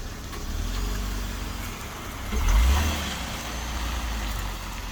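A GMC Terrain's engine idles and rumbles nearby as it slowly reverses after a brake pad change, with a brief swell in engine noise midway and no brake squeal.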